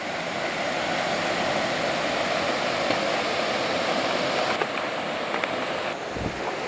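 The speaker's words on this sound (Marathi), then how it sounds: "माझ्या मागे बघता तो धबधबा कंटिन्यू वाहतो इकडे" Forest waterfall rushes continuously in a dense, steady broadband roar. It is close and loud throughout, with no one speaking over it.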